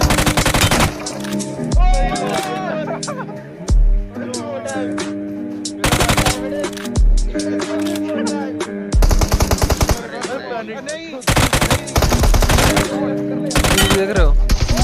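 Gunshots in the battle royale game BGMI: rapid automatic bursts that stop and start, loud and close, with a voice talking excitedly over and between the volleys.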